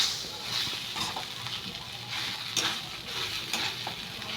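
Grated whole coconut fries in a pan while being stirred, a soft steady sizzle broken by repeated scraping strokes at roughly one-second intervals, close and moderately quiet.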